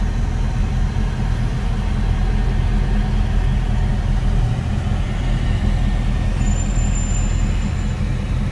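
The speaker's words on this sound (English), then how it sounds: "Busy traffic today." Busy road traffic heard from inside a moving 1948 Chevrolet Fleetline with a 350 V8 during a test drive: a steady, loud engine and road rumble with passing vehicles and a faint high whine, no talking.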